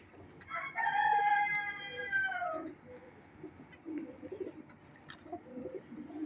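Pigeons in a loft give low, soft coos in a string of short phrases, preceded by a loud, drawn-out crowing call nearby against steady background noise.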